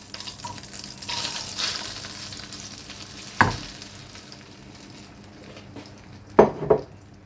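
Apple and cinnamon pancake batter fries in a pan with a low, steady sizzle. Two sharp metallic clinks of a utensil against the pan break in midway and near the end.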